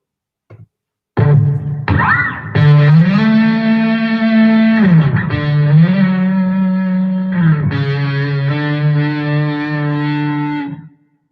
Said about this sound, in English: I actually like a bit of distortion on that sound as well.